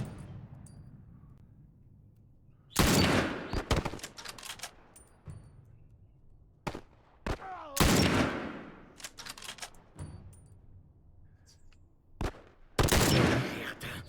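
Bursts of gunfire in the video game The Last of Us, loud rapid volleys and single shots spread unevenly over quiet gaps, heard up close.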